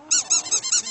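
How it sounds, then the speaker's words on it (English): A rubber toy ducky squeaks five times in quick, even succession, shrill and close, with no talk over it. "let the ducky squeak. Go ahead and squeak."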